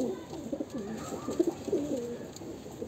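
Pedigree pigeons coo in a series of soft, rolling calls close by, with a faint steady hum behind them.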